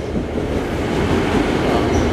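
Commuter train pulling into a station platform on a Ronkonkoma line, a steady loud rumble of wheels and cars rolling close by with no gaps throughout.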